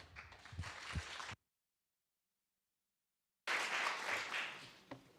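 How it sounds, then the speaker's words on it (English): An audience applauds a speaker at an entrepreneurship conference: dense, steady clapping fills the room, then cuts to about two seconds of dead silence before a second full burst of applause resumes and tapers near the end. "please offer a warm round of applause"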